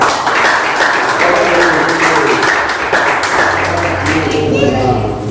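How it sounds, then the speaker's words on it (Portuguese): A congregation claps at a church service, a dense, loud, sustained burst of applause that carries on steadily for several seconds, then begins to thin near the end as voices come through. "com a salva de palmas maravilhosa"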